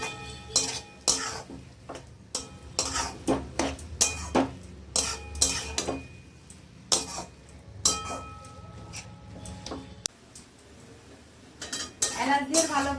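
A spoon stirs carrot halwa with cardamom in a metal pot over medium heat, giving repeated scraping and clinking strikes in an irregular rhythm, close and fairly loud, with a faint sizzle underneath.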